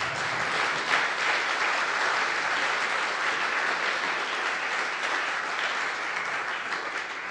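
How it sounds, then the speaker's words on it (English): Sustained audience applause offered as praise to God fills a worship session, steady and dense for the whole stretch with no break. "let's give him a round of applause."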